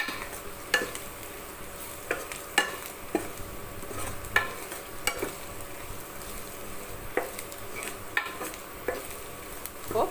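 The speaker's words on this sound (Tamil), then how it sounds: "கொஞ்சம் நல்லா எண்ணெயில் வறுத்துக்கலாம்" Masala spices fry in hot oil in a pan for tomato thokku, giving a continuous close hiss of sizzling broken by intermittent sharp scrapes and taps of a stirring spoon.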